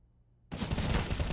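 Gunfire from a Counter-Strike match between Eternal Fire and Team Fiend erupts after a short quiet moment into a loud, dense burst of rapid shots that continues to the end.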